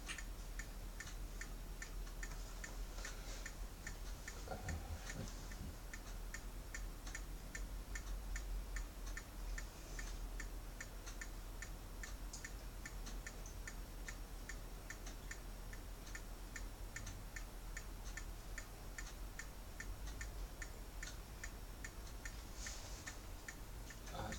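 A clock ticks steadily and evenly throughout, with a soft, constant room hiss underneath and no talking.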